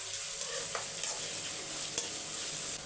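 Medium-size sliced onions fry in a pan for mint pepper rice, giving a steady, close hissing sizzle with a few soft stirring scrapes throughout.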